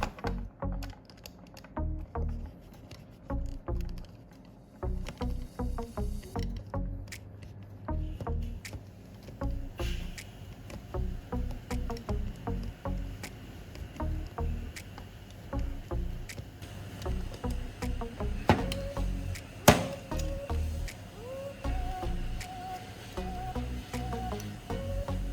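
A utility knife cuts through a plastic syringe tube on a stable surface, making quiet, close, irregular clicks and scraping taps in short bursts, with brief pauses between strokes.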